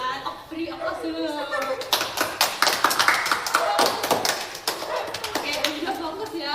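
Clapping from a group of classmates breaks out to cheer the winner of a ping-pong-pang word game. Dense, steady applause runs for several seconds right after a voice finishes speaking.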